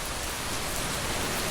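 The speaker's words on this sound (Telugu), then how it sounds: "అంత గొప్ప ప్రవాహంలో సంతత ధారగా వాన పడిపోతోంది" Heavy, unbroken rain pours down near the banks of the Krishna river, a dense and even wash of hiss with no pauses and no voices.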